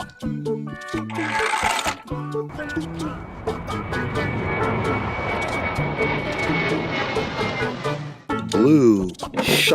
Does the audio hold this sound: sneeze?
no